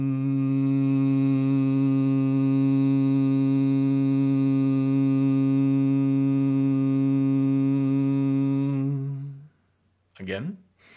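A single human voice holds a long, steady, resonant hum for about nine seconds during a vagus-nerve breathing exercise, then it stops and a short breath or rustle follows.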